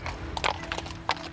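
Hooves of a municipal police horse in Mâcon, France clop on hard ground in a few uneven, close strikes over steady low background rumble.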